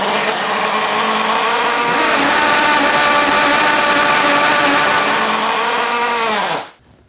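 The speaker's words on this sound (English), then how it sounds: "I have my see-through rotary engine built, ready to start for the first time." A see-through rotary engine started for the first time, running loud and steady with a dense, buzzing high-revving roar and layered harmonic whine for several seconds before cutting off abruptly near the end.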